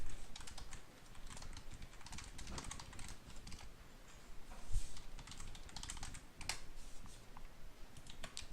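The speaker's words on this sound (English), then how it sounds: "I'm gonna type that in chat real quick." Quick, quiet clicking of keys as a chat message is typed on a computer keyboard during a Minecraft session, steady bursts of keystrokes close to the microphone with no talking.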